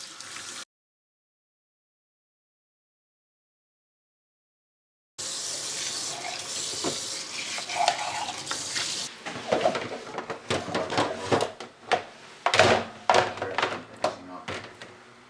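Running tap water and splashing as the outside of a baby bottle sterilizer is washed in a sink, with soft thunks of plastic handling after a stretch of silence, fairly quiet and close.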